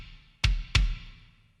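Two processed kick drum hits from a worship music mix, sub kick and top kick layered, each a deep booming thud with a crisp click on top, close and solo with a decaying tail.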